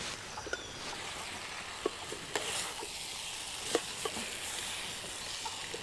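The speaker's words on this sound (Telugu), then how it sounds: "ఇదంతా ఇలా బాగా కలుపుకొని ఒక 2-3 నిమిషాలు బాగా వేయించుకోవాలి" Masala for chicken pulao with garam masala fries in a pan, a soft steady sizzle broken by scattered scraping taps of a spoon stirring, close and quiet with no talk.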